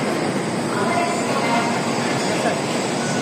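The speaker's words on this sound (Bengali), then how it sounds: "এটা হচ্ছে আমাদের বুলেট ট্রেন। আমরা রওনা হচ্ছি।" A Japanese bullet train setting off produces a steady, loud rumble and rushing roar that stays even throughout, heard from on board.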